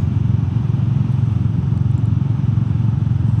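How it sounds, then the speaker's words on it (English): A Royal Enfield Meteor 350 single-cylinder cruiser idles with a steady, low, pulsing exhaust rumble and mechanical clatter, close and continuous with no talk. "still a very nice sound for a single cylinder engine. And this rumble in the exhaust and the engine"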